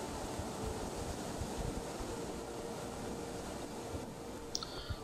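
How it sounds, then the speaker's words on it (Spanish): Waterfall in the LEGO The Hobbit video game, a steady broad wash of falling water rushing evenly at moderate level with no talk. "Pasas por debajo de la cascada."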